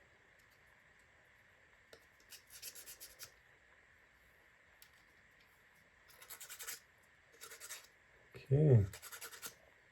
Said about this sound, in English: Make sure everything's sanded again.